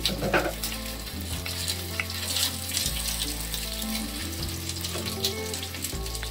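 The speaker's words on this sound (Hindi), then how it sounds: "तेल को रख दिया गर्म होने के लिए यहीं पे डाल दूँगा मेथी फोरन के लिए" Fenugreek seeds sizzle in hot oil for tempering, a loud, dense, continuous crackle and hiss close up, with periodic low thumps from stirring.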